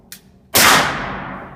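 One loud, close shot from a SIG P226 Tac Elite 9mm pistol with an Osprey 45 suppressor, a sharp crack and a long echoing decay, after a faint click just before.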